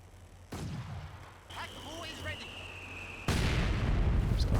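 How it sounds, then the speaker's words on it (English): Mortar rounds firing in a Company of Heroes 2 battle, a sharp thump and later a loud rolling blast, with whistling shells in between and a commentator talking over them. "He's got the mortars out."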